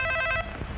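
A telephone rings with a repeating electronic bell pattern, close and clear, ending abruptly after a few rings with a low room hum underneath.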